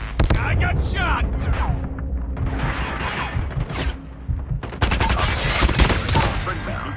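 Gunfire in a video game shooter, dense rapid bursts of automatic fire that keep up almost continuously, loud and close, with a fresh intense volley near the end.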